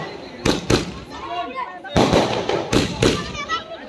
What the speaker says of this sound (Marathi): फटाके थांबवायला तयार नाहीत